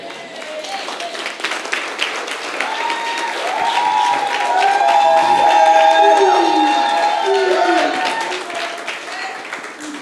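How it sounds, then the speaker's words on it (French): A church congregation applauds for a pastor, steady clapping building to a peak midway and easing off, with cheers and sustained tones layered over it, likely music or voices. "On applaudit encore pour le pasteur Carlos."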